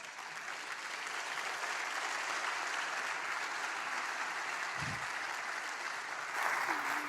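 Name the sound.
audience applause at a TEDx event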